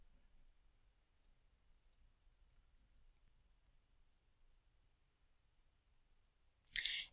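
A single crisp computer mouse click sounds near the end, up close, while working in the ArcGIS Report Wizard. Near-silence with a faint low hum comes before it.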